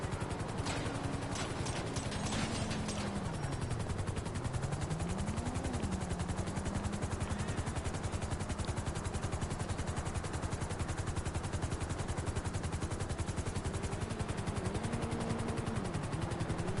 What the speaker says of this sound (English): The dude came down with a helicopter.